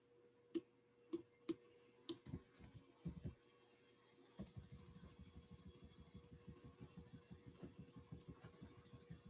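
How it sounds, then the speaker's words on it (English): Keys clack on a computer keyboard, first as a few separate distinct strokes, then as a fast, continuous run of quiet typing. "let me type some words."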